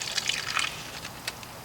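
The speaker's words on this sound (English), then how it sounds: "pouring a little bit of water down here in the bottom" A little water is poured into the bottom of a Ziploc bag for rooting a rose cutting, giving a brief soft splashing trickle.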